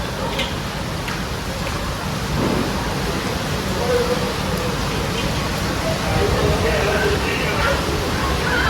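Heavy rain roars steadily throughout, a dense wash of noise with low rumbling underneath and faint voices now and then.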